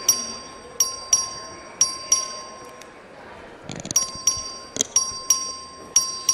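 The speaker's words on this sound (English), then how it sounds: "The clerk will ring the bell." Repeated bell strikes rung by a clerk to open a vote in the Texas legislature chamber, a series of bright, sharp dings at irregular intervals with quiet gaps, set against a faint murmur of the room.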